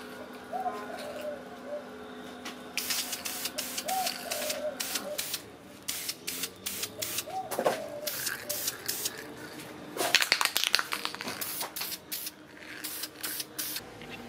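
Short bursts of wrinkle coat paint from a spray can in a garage, hissing in a quick irregular series, close and fairly loud, with a low tonal hum and occasional faint chirps in the background.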